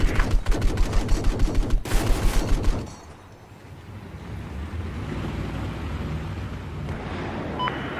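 A machine gun in the Battlefield 4 video game fires a loud, rapid burst of evenly spaced shots for about three seconds, then cuts off into a quieter, steady wash of background ambience.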